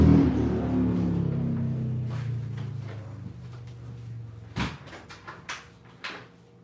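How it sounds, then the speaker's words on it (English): A door is shut indoors: a low rumble fades out, then a sharp close thud is followed by a few lighter knocks and rattles, with no talking. "I'm gonna shut this door real quick."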